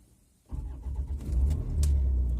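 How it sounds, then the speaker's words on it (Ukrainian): A car engine cranks and catches after a brief quiet moment, then settles into a steady, close, rumbling idle that continues to the end. "машина завелася я поїхала"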